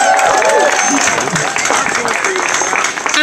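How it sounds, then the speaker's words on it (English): A crowd at a Monterey County Democratic Party celebration gives a loud, sustained round of applause for a congressman, continuous and close, with voices and cheering woven through. "Let's give him a big round of applause"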